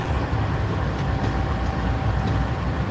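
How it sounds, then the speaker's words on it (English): Norfolk Southern SD70ACE locomotive arriving in Chattanooga, heard as a loud, steady, deep rumble with a faint whine above it, close and continuous, with no talking. "Locomotive"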